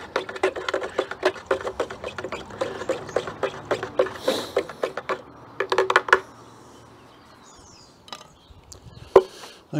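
A soil treatment solution being stirred in a container for a beetroot bed, giving rapid rhythmic clinking and tapping that thins out into scattered knocks and rustles, close by.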